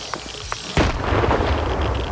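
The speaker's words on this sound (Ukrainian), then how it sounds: "якщо у вас є граната, краще її скиньте" A grenade explodes in S.T.A.L.K.E.R. 2 with a sudden loud close blast, followed by a rumbling roar that lingers. A few faint clicks and thuds come just before it.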